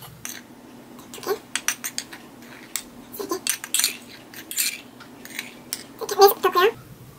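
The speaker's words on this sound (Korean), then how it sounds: "핫케이크 가루를 좀 활용하시면은 스푼으로 뜰게요" A metal spoon scoops hotcake mix for batter, making irregular clinks and taps against the container, close up, with a person talking at times.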